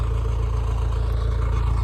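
Blue vehicle engine idles while warming up, a steady low rhythmic rumble with a faint mechanical clatter, constant and close, no voices.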